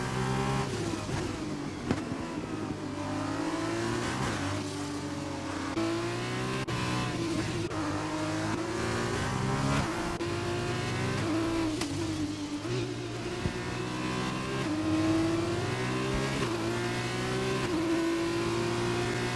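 F2 race car in a racing video game at the Russia round, engine droning loudly on board with rising and falling pitch through gear changes and throttle lifts, a continuous close whine with no talk.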